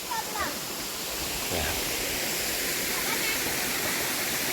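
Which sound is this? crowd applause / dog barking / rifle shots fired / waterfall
waterfall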